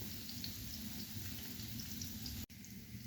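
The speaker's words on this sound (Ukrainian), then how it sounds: "відправляємо їх жарити в гарячій олії. Смажимо у великій кількості олії." A steady, dense sizzle of liver-filled pastries deep-frying in plenty of hot oil, crackling evenly throughout with a brief dip near the end.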